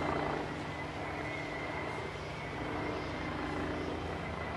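A helicopter flying over Amsterdam for aerial filming, a steady loud rotor and engine drone filling the whole stretch with no pauses and no voices.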